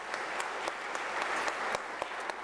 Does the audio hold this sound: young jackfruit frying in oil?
no